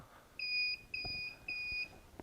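Three short electronic beeps from a Bissell Spotbot 33N8 carpet cleaner in a steady rhythm, clear and moderately loud, with faint clicks and handling noise between them.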